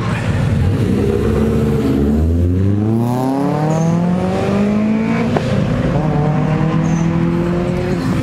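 Two Subaru cars arriving at a car meet, engines revving and rising in pitch as they pull in nearby, with a steady background rumble and no talk.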